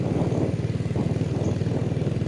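A motorcycle runs along a road with a steady, loud, throbbing engine pulse, close by and without voices.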